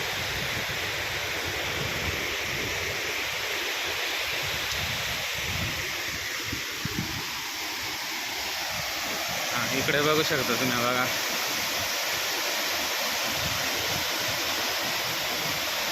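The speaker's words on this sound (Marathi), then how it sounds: "खूप छान धबधबा आहे" Steady, broad rushing water roars continuously from a waterfall close by at Trimbakeshwar, with someone talking over it briefly.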